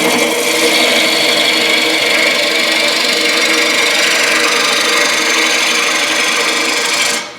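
A wood lathe turns a wooden bowl as a turning tool takes a cut, producing a continuous loud, rough scraping hiss that holds steady for about seven seconds and then stops abruptly.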